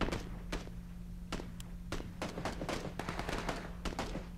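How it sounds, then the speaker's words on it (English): Gunshots in PUBG crack out as repeated sharp reports, some near and some farther off, in irregular bursts with no talk. "we hear some gunshots as everyone's starting to come into this area"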